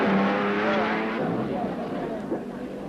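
Race cars at the Le Mans endurance race roar loudly and steadily, one engine note dropping in pitch as it passes close by amid a continuous wash of track noise, with no talk.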